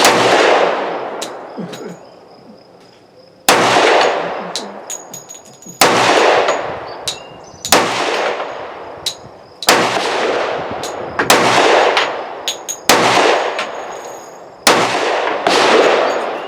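Seven loud, sharp gunshots from a Tisas ZYG 1911 10mm pistol, fired one at a time at irregular intervals, each with a sharp crack and a ringing decay, with no talking.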